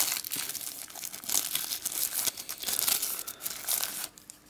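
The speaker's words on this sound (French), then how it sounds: "Donc les petits bouts de plastique, je vais les enlever" Crinkly plastic being peeled and torn off the parts of a Pokémon Diamond & Pearl trainer kit, close, irregular crumpling bursts for several seconds, then quieter at the end, with no talking.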